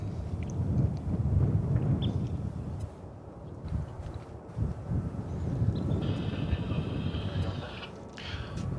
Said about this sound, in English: That's an Air Canada Express Embraer 175 that is on its way to the top end of runway 18 left